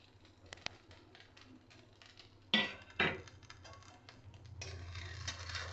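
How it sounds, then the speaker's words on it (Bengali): Fried rice with egg, chicken, onion, carrot and capsicum being stirred and mixed in a pan, with a few sharp clinks of a spatula against the metal, scraping and a soft sizzle, near and fairly quiet with no talk. "এগুলোকে আমি ভালো করে একটু মিশিয়ে নেব।"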